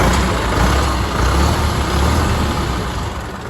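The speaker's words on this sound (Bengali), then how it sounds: "ইঞ্জিন স্টার্ট ফার্ট করে যেমন দেখিয়ে দিই পুরো আপনার দিকে পুরো ইঞ্জিন সাউন্ড দেখে নেন" A brand-new truck's engine idles just after starting, a loud, steady rumble that holds close and even throughout, with no voices.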